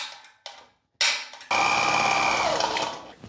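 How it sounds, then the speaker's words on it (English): Holes are drilled in sheet metal for spot welds on a car panel: short bursts of the drill run, then a long, loud, high whining drill pass bites steadily through the metal. Nobody speaks. "forgot to drill holes for the spot welds"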